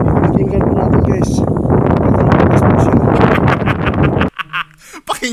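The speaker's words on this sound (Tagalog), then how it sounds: "Pero yung hangin yung naririnig." Gusty wind buffets an outdoor microphone near a house by a cemetery, a loud, steady low rumble covering most of the clip before it briefly drops away near the end, with voices talking over it.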